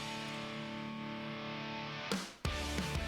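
A rear bus mix of drums, bass and guitar plays on its own, a dense distorted wash that breaks into a brief dropout before the full band comes back in.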